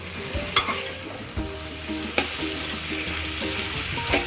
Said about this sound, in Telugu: టమాటాని కూడా బాగా మగ్గేంత వరకు కలుపుతూ ఉండాలి.